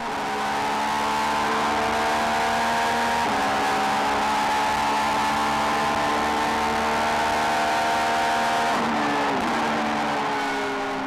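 Super GT race cars at Suzuka in 2003, including a Raybrig NSX, roar past at full throttle: a loud, sustained engine drone with rising and falling pitch as cars accelerate and shift, with no talk.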